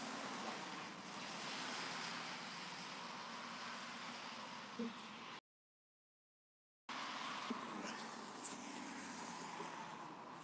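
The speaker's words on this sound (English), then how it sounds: "we're just out enjoying the blustery day. It's very windy out" Strong, blustery wind buffets the microphone outdoors on a windy day with light snow falling, a steady roaring rush with a brief gap of silence partway through.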